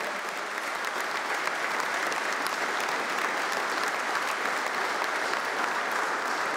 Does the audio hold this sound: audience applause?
yes